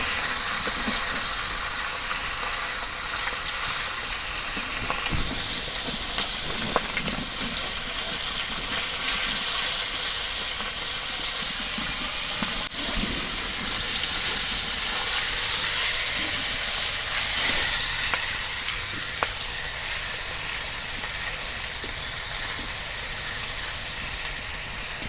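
Pieces of pangas fish fry in an oily pan with a long, even, hissing sizzle heard up close, broken now and then by faint crackles and small spits.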